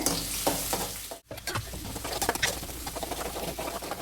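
Chopped onion, green chilli, garlic and ginger sauté in a hot pan, a loud, continuous close sizzle broken by stirring scrapes and a brief pause partway through.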